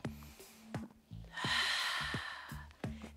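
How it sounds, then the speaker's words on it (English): One big deep breath during an upper-body yoga stretch, a long audible inhale and exhale, close and breathy, set among short spoken instructions from a nearby voice. "One big breath"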